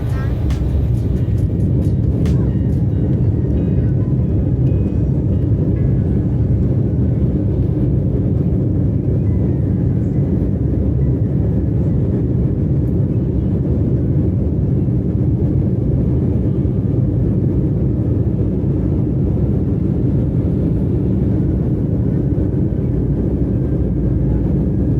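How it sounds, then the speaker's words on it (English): Passenger jet engines roar steadily through takeoff from inside the cabin, a loud, continuous low rumble with no break for the full length. "We have liftoff."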